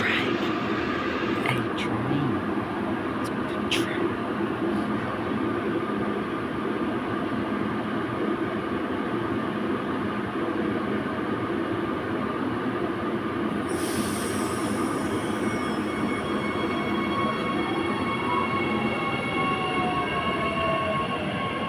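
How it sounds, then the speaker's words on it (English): Passenger train departing South Brisbane station on a Cleveland service, a steady loud rumble of wheels and cars rolling out with a sharp squeal of wheels on the rails partway through, heard close on the platform. "221 and 224 are now about to depart for a Cleveland service."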